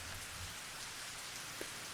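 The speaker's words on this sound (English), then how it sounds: "all I heard was the sound of falling rain" Steady rain falls in the Higurashi video game, an even, continuous hiss of drops with a faint low rumble beneath and no voices.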